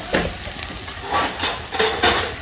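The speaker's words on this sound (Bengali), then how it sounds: "আমি ভালো করে মিলাই নিই।" Stirring rohu fish and cauliflower curry in a pan, with several scraping, sizzling strokes coming in short bursts over a steady background frying hiss, close and fairly loud.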